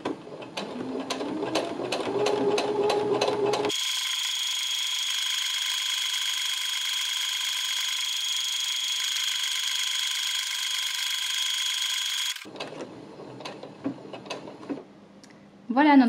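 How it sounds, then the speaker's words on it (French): A sewing machine sews a buttonhole on fabric with its automatic buttonhole function, running a steady, loud, continuous whir with a high mechanical whine for about nine seconds, bracketed by quieter stitching clicks and a voice speaking before and after. "vous allez voir, la machine le fait tout seul et le tissu bouge tout seul"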